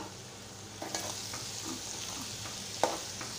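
Soft bubbling and sizzling from a pan of raw mango pickle mixture with turmeric and jaggery boiling on the stove, with a few scraping stirs and a sharper clink near the end.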